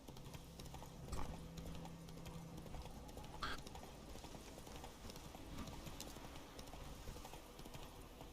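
A horse in The Witcher 3 appearing and trotting, with a steady rhythmic clip-clop of hooves throughout and a brief jingle or whinny partway through, fairly faint and without talk.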